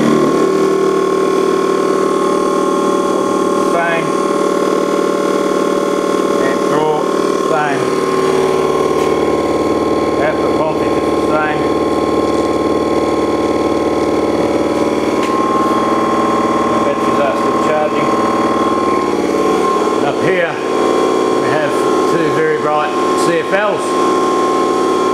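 A motor generator desulphator runs with a steady electrical hum and whine that shifts in pitch partway through, while someone talks over it at close range.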